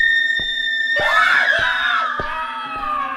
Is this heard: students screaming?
yes